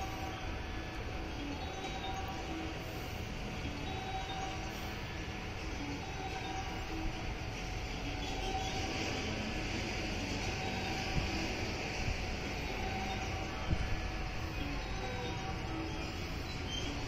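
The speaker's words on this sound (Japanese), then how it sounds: "こちらの列車は7時11分発、普通加古川駅です。" A local train at JR Uozumi station, bound for Kakogawa during the morning rush, gives a steady, continuous rumble with a faint tonal whine, close and even throughout, with no talk.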